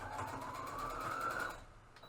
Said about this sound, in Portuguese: Faço uma costura reta